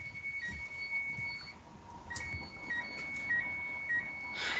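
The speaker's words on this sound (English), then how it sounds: "turn my timer off." Kitchen timer alarm going off while chocolate chip cookies bake, a thin high electronic beeping in repeated short bursts with a steady tone underneath, moderately close over faint room noise.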